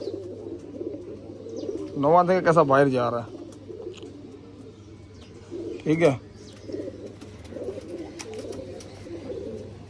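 Young pigeons being handled, with soft cooing faintly under someone talking in short bursts in a quiet room with a low steady hum.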